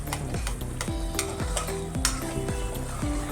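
Peanut barfi sugar syrup mixture being stirred in a pan, a steady scraping and stirring with soft sizzling beneath and a spoon knocking the pan at a regular rhythm, close and continuous with no talk.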